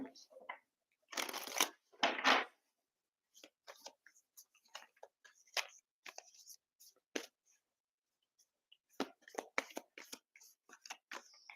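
Tarot cards shuffle in two short, crisp riffling bursts near the start, followed by scattered soft card handling and quiet whispering speech in a hushed room.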